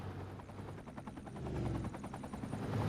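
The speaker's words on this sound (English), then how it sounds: "Oh, helicopter." Rotor chop from a helicopter in a city-building video game, a fast, even thudding pulse that starts faint and grows steadily louder as the aircraft approaches, with no voices over it.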